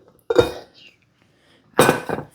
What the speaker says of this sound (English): I want to scrape everything off of it, okay?